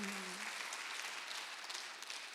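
A church congregation applauds during a Thanksgiving Sunday worship service, a steady wash of clapping that holds at an even level for the whole stretch, with a brief low tone at the very start.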